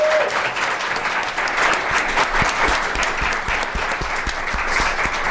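Audience at a BroadwayCon panel breaks into sustained applause, a bright, dense spread of individual claps filling the room from start to finish.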